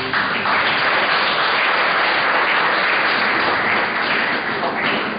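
A church congregation applauds for the pastor, a dense, loud, continuous wash of many clapping hands with no break over several seconds.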